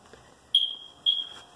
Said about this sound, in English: And we have the smoke detector, which of course means no one's sleeping here because that would be too noisy.